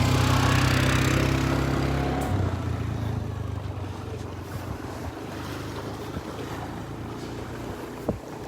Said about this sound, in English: The jet skis, are putting the rental jet skis out in the water.